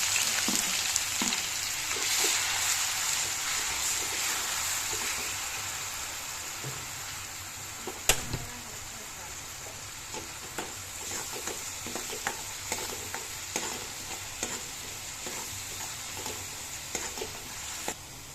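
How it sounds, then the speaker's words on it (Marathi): Onion frying in oil with bay leaf and cinnamon for black chana masala: a continuous hissing sizzle runs throughout, broken by occasional spoon clicks and scrapes, close up with no talking. "आता त्याच्यात आपण हा कांदा परतून घेऊ"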